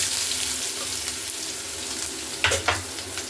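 Ridge gourd pieces dropped into hot oil with mustard seeds fry with a steady loud sizzle and hiss, broken near the end by two sharp bursts as pieces stir or splash, no voices.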